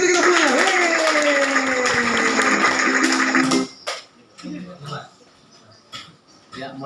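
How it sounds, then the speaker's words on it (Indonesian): A class of ninth-grade students applauds together in a classroom: a loud, dense burst of clapping mixed with voices that lasts several seconds, then breaks off into scattered speech and room noise. "Tepuk tangan sekali kita semuanya."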